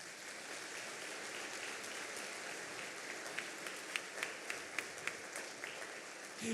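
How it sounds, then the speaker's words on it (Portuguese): A congregation at a Catholic Mass for the Solemnity of Saint Joseph applauds steadily in a reverberant church, a continuous wash of clapping with a few louder individual claps emerging toward the end. "Pode aplaudir meu pai?"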